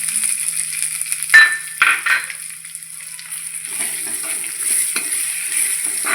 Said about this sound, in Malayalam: ചെറിയുള്ളി നല്ലോണം വഴറ്റിയെടുക്കാം